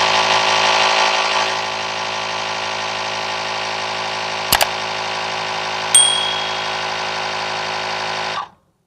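A Tusa portable electric air pump inflating a bike tyre runs with a loud, steady motor drone, punctuated by a couple of brief clicks and a short beep, then cuts off abruptly near the end.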